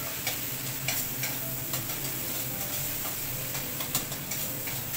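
A pan of curry, with a little sugar just added, sizzles steadily while being stirred, with scraping taps of the spoon recurring through the continuous frying hiss.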